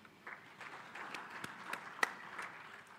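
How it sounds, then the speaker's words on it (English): Sparse, faint clapping from a conference audience, scattered individual claps rather than a full ovation, heard at a distance against a quiet room. "Round of applause."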